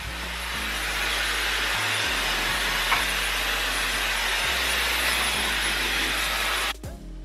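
A Dyson Airwrap pre-styler hair dryer runs on its highest airflow and highest heat settings, giving a loud, steady rushing whoosh with a low motor hum that holds for several seconds before cutting off near the end.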